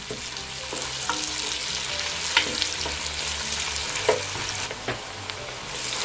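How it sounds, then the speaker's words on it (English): Steady sizzling and crackling of onion and crayfish frying in a pan, with a few soft clinks and stirring noises, no voices. "we're just going to fry these two ingredients together for 1 or 2 minutes"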